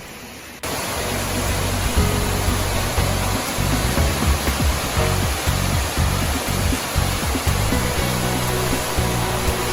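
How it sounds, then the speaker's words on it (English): Grizzly Bear Falls in Sequoia and Kings Canyon National Parks, a loud, continuous broadband rush of falling water that starts abruptly and holds steady with no voices. "That's Grizzly Bear Falls."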